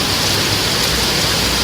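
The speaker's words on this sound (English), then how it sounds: "Actually got hail." Hail falling in a storm near a beach, a dense, loud, unbroken hiss and patter of stones hitting surfaces, steady throughout with no voices.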